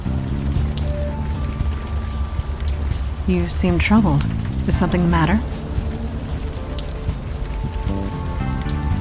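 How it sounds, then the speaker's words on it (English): Constant rain hissing down in the adventure game Unavowed, a steady wash running under a voice speaking in the middle of the scene. "Still raining."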